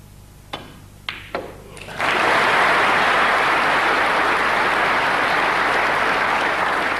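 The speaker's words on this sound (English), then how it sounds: "Round of applause for Stephen" Audience applause at a 1992 World Snooker final match breaks out after a few isolated claps, then swells into sustained, loud clapping from a large crowd that continues steadily to the end.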